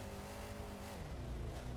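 Monster truck Spike's engine revs at an arena Monster Jam event in the Fargodome, a steady loud roar with droning low harmonics and a slight drop in pitch midway, heard alone over crowd ambience.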